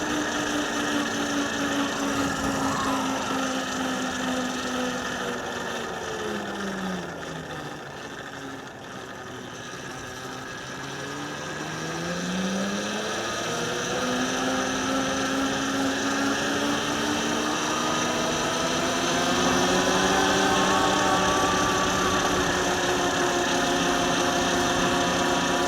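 A car engine drones steadily while driving along a road past a lake, its pitch dipping and rising with speed changes, a continuous close hum throughout with no talking.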